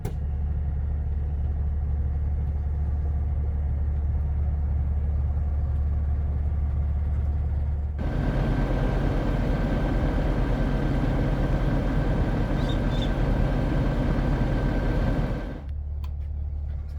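Hydraulic slide-out rooms on a 2022 King Aire luxury motorhome push out: a low idling drone gives way to a louder, steady pump whine for several seconds, then drops back down near the end.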